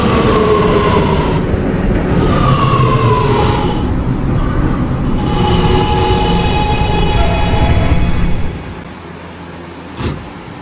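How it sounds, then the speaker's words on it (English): An R211A R local subway train in the Roblox game PTA Subway rumbles along the tracks with a steady roar and squealing tones, then slows and quiets near the end, followed by a short chime. "This is a Gatlin-bound R local train."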